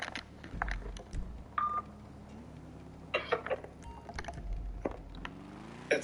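Phone dialing and call tones inside GTA Online during the Cayo Perico heist: a few short beeps and a steady ringing tone, mid-level against a low ambient game hum, with no talking over it.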